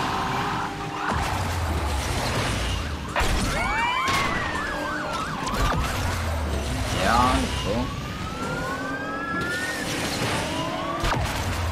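Police car sirens in the racing video game Asphalt Legends, several rising and falling wails overlapping over a loud engine roar, with crashes and a voice talking underneath.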